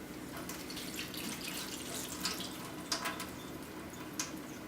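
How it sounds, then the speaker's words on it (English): Water from a sink tap runs over soaked almonds being rinsed, a steady close hiss with a few light splashes and drips. "I am going to strain them in the sink and then I'm going to rinse them"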